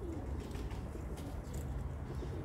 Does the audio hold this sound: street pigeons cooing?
yes